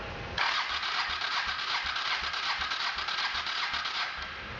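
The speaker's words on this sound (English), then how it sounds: "We'll run our starter motor for a few seconds until the gauge quits rising" Starter motor cranking a fuel-injected motorcycle engine with the throttle held open during a compression test, a continuous whirring crank with a rapid regular chugging pulse for about four seconds, close up and without speech.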